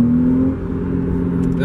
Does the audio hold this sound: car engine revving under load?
yes